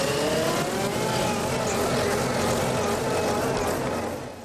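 A tractor engine revs hard as the throttle is opened, a loud, sustained roar that holds steady before easing slightly at the end.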